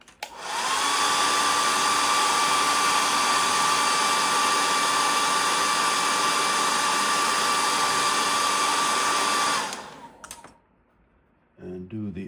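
A hair dryer blows on fresh paint coating a hand-carved cedar waxwing bird, a loud steady whirring hiss with a faint tonal whine that runs for about nine seconds, then cuts off, leaving a few quiet handling clicks.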